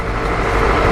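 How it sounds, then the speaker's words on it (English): Inside a moving truck, a dense, loud, steady rumble of engine and road noise fills a short moment with no talking. "we're just in the truck at the moment, so do excuse the background noise"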